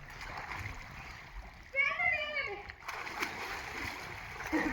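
Water splashing from someone swimming, a brief burst of close splashing in the middle with a voice calling out over it and steady outdoor noise throughout.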